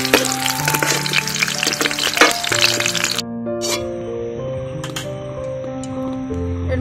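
Onion, green chilli and garlic sizzle in hot oil with a dense, close crackling hiss for about three seconds, then the frying drops away, leaving quieter background music.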